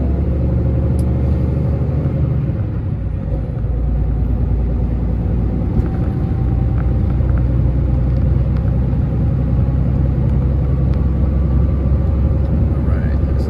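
Heavy truck engine in a trucking video game, a steady low rumble that drones continuously throughout at high level with no pauses.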